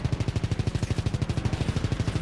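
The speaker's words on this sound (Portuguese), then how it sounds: "Tomando tiro." Rapid automatic gunfire in Call of Duty WW2 keeps up a steady, fast rhythm of loud, close shots for the whole stretch, with no talk over it.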